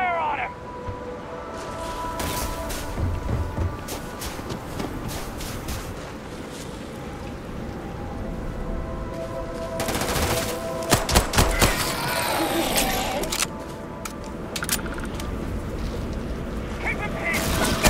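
Gunfire in the sci-fi game Starfield: clattering volleys and rapid shots amid a continuous droning background, with a heavy burst in the middle and shouted combat voices.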